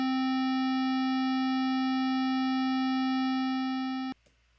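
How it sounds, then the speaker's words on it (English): A steady square-wave tone passes through a low-pass filter, giving a dull, constant hum that holds alone for about four seconds and then cuts off abruptly, leaving near silence. "Let's hear the square wave with a low pass filter, filtering out the high frequencies."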